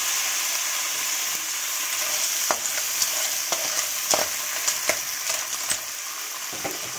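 Boiled clams frying in a pan with XO mushroom sauce, giving a steady close sizzle broken by repeated scraping stir strokes and clacks.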